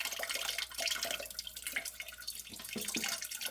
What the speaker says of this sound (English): Let the water drain. Got a pan here to drain the water into.